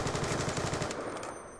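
Rapid machine gun fire from Call of Duty: Black Ops 2 rattles in a loud continuous burst, then breaks off and fades into a short tail.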